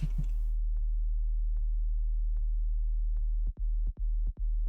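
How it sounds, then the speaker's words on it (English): A low, steady pure sine wave sub-bass synth tone hums continuously, with faint regular clicks ticking over it and a few brief dropouts near the end. "So that is just a traditional sine wave."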